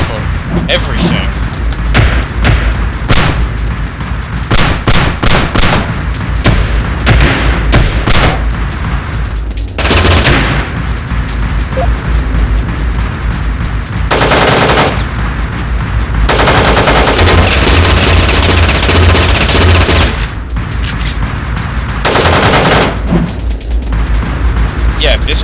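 Dense, loud video game gunfire and booming blasts from the top-down shooter Teleglitch fill the whole stretch, with someone talking over the shooting throughout.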